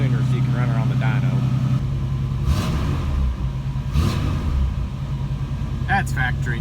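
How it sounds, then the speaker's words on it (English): A 1986 GMC Caballero V8 holds a steady factory high idle, a loud continuous low rumble with a brief rise in revs partway through, close to the microphone with no talk over it. "she's got that factory high idle option on her, just to get her up to operating temperature sooner"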